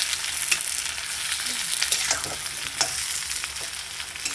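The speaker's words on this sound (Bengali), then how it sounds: "আলু আর পেঁয়াজটা ভাজা বসিয়ে দিয়েছি" Potatoes and onions frying in a pan of oil, a continuous crackling sizzle with occasional scraping stir sounds, close and steady with no talking.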